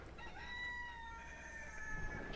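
A rooster crows from a short distance, one sustained cock-a-doodle-doo with a clear tonal line lasting about two seconds, alone over faint background noise.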